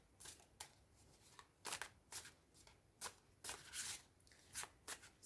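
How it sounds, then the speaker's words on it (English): Crisp riffling bursts of a new card deck being shuffled for a tarot reading, several quick flurries close by with short pauses between them, no voices. "I'm giving these a really good shuffle"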